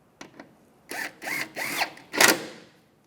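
On a 2007-2013 Mini Cooper, screws on the serpentine belt idler pulley are tightened with a power driver: two short clicks, then four rising whirring bursts, close and distinct, with no voices.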